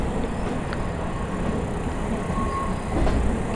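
Regional train in Train Simulator 2024 slowing into Ostružná station on line 292, a continuous loud rumble of wheels on rails with faint squeals and clicks, no voices.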